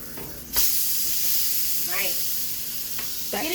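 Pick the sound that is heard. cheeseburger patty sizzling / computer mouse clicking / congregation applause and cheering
cheeseburger patty sizzling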